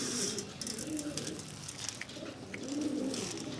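Sherazi breeder pigeons in a large breeding cage, cooing in soft, low, rolling phrases from nearby, with a faint hiss of background noise.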